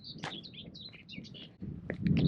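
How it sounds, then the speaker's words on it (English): A bird sings from the trees at the edge of a field, giving a quick run of high chirps and short twittering phrases close by. Low rustling noise builds toward the end. "Hello, bird."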